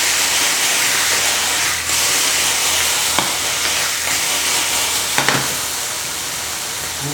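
Vegetables sizzle loudly in a pan after ginger sauce is added, a dense steady hiss of frying with a few faint clicks of stirring and no talking.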